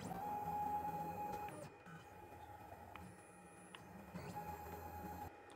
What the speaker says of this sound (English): we're going to use our joypad to jog around the machine just to make sure everything is working correctly